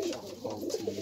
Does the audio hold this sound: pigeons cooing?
yes